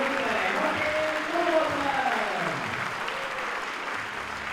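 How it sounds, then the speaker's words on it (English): Crowd at an IFSC Lead Climbing World Cup semi-final in Stavanger gives a polite round of applause, a steady wash of clapping that runs the whole time beneath a commentator's voice. "Martin Mulgrattan comes off the wall to a polite round of applause from the crowd"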